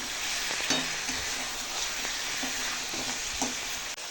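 Mutton fries in released oil as kosha mutton cooks down, a continuous low sizzle broken by several distinct spatula scrapes and stirs against the pan, with no voices.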